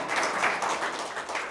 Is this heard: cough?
no